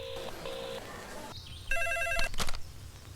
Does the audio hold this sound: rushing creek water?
no